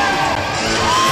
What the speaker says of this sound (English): The crowd in it here at the Coliseum.